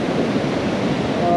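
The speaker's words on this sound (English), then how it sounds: "there are some little waves." Small ocean waves breaking on a beach after a slight bump in swell, a steady wash of surf with some wind rumble, fairly close and continuous for a brief moment.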